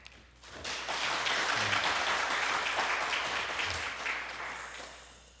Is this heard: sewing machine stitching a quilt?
no